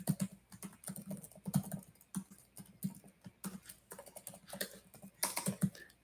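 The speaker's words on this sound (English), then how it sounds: "Hope the typing is not too loud." Computer keyboard being typed on in irregular bursts of quick, soft key clicks, close by and fairly quiet, with no voices.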